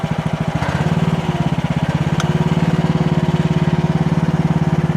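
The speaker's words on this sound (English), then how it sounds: "So it's idling right now, and it's running around 75 to 80. So let's take it up to an operating speed." A Chinese H15R mini excavator's small engine rises from idle toward operating speed, a loud, close, rhythmic chugging pulse that steadies into an even higher throb.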